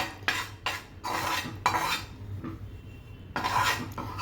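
Gram flour (besan) being roasted in a pan over low heat, heard as repeated scraping and clinking of a spoon against the pan in uneven strokes, close and fairly loud with short quiet gaps.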